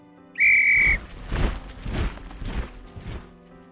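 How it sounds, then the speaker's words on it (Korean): A police officer's whistle gives one loud, shrill blast lasting about half a second, followed by heavy thuds and clattering. "순사의 말이 끝나기가 무섭게 호루라기 소리가 울렸습니다"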